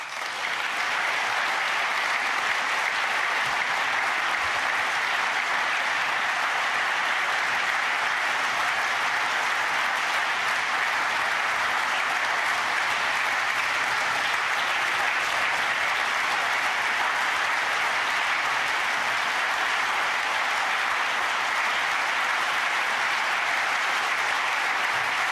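A large audience at a formal anniversary ceremony claps steadily and loudly after a speech, a dense and even wall of applause that runs without pause for the whole stretch.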